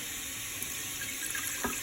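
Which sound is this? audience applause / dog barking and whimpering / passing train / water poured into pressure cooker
water poured into pressure cooker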